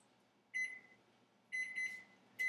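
A microwave oven gives a few high electronic beeps as its timer is set, short tones in separate bursts, fairly faint in a quiet kitchen.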